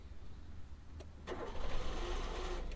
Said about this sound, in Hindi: गाड़ी स्टार्ट करो चाबी से